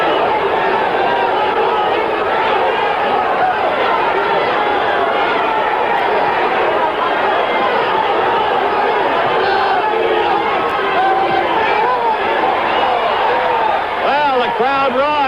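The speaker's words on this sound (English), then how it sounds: "Crowd roars as Evangelista" A large boxing crowd roars continuously at the Muhammad Ali versus Alfredo Evangelista heavyweight fight, a loud, dense wall of cheering and chatter with commentary mixed in.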